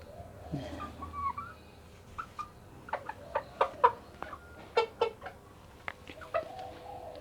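Chickens cluck nearby in short, irregular bursts, sharp individual calls popping out over a quiet background.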